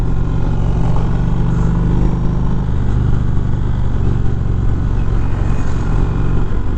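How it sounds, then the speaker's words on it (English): A 2019 Indian Springfield Dark Horse motorcycle accelerates in standard mode, a loud close steady engine drone with a low throbbing tone and rushing wind throughout. "So throttle response here in what I believe is standard mode."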